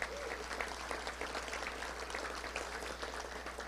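An audience at a Little Rock Touchdown Club luncheon gives a faint, distant round of applause over a low steady hum, the clapping even and unbroken.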